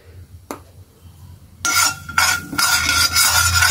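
Mustard seeds fry in a pan for mango thokku. A quiet start and a single clink give way to a bright, crackling sizzle mixed with stirring scrapes for the rest of the moment, with nobody talking.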